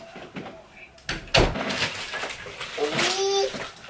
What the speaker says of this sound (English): Let me go close my door.